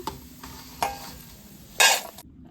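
Snack ingredients for a puffed-rice evening snack fried in oil in a pan, a faint sizzle broken by a few distinct spatula scrapes against the metal, the last one loudest before the sound cuts off.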